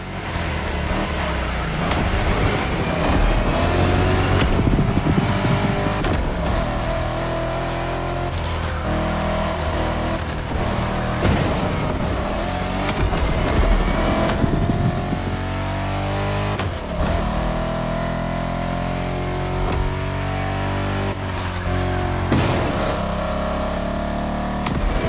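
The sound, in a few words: Ford GT500 muscle car engine in The Crew Motorfest video game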